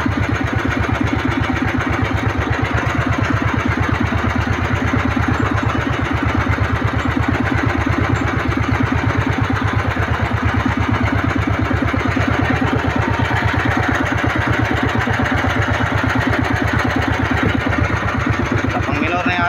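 A small fishing boat's engine runs loud and steady at sea, a continuous close mechanical drone with a rapid rhythmic throb that never lets up.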